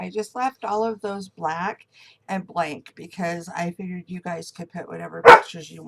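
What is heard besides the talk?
dog barking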